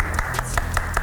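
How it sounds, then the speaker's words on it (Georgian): Applause and clapping from a studio audience on a Georgian reality show, a short burst of rhythmic claps with a little background voice underneath. "აპლოდისმენტები"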